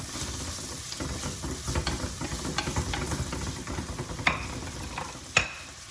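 Chili stirred in a hot pan on high heat with ginger and garlic, giving a continuous loud sizzle with rhythmic scraping of a utensil and two sharp clinks near the end, close up.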